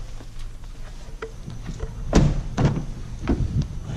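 A 2016 Honda Pilot Touring's door opening and shutting outside the car, with a sharp near thunk followed by several lighter latch clicks and knocks over a low idle hum, and no talk.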